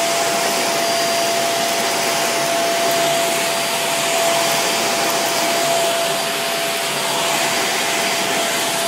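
A Greenote corded stick vacuum cleaner runs continuously up close while cleaning a small mat rug, a steady airy whoosh with a faint high tonal whine and no speech.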